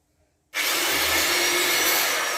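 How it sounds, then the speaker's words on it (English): A power drill in a garage starts abruptly after a short silence and bores into a trolley part, a loud, steady, broadband whirring grind that runs on without a break and with no talking. "Now I'm going to drill on this side."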